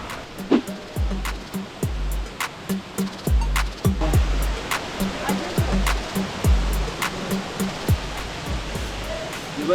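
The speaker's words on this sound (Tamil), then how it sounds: "இதுதான் பார்த்தீங்கன்னா லக்கம் ஃபால்ஸ்." Lakkom Falls waterfall in Munnar, Kerala: a steady broadband rush of falling water fills the scene, overlaid by frequent sharp knocks and low thumps close by.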